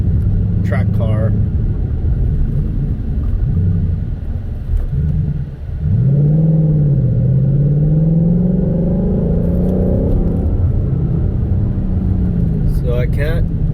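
A Roush Mustang track car on a canyon road rumbles loudly and deeply, first holding a steady drone, then revving up in a rising, wavering engine note that stays close and dominant.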